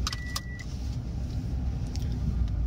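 Steady low road rumble inside a moving car, loud and continuous throughout, with a few brief light jingles like keys near the start and no talking.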